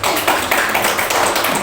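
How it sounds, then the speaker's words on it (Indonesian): Dense, continuous hand clapping from a group filling a classroom, steady and fairly loud throughout the short burst with no pauses. "tepuk tangan lagi dong"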